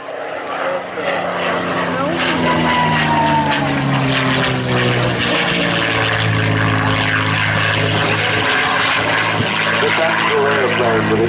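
A P-51 Mustang propeller plane flies at the Sanicole air show, its loud, steady engine drone with shifting harmonics holding throughout, while a voice talks over it.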